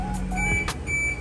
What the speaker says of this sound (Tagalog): So yung tunog ng OEM chime natin ganito.